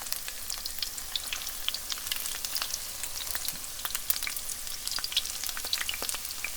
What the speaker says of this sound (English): You put it into a pan with a little bit of oil, and then once it starts to look like it's getting brown, just flip